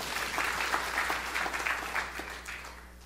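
Applause from a church audience, a soft steady patter of many hands clapping that gradually fades toward the end.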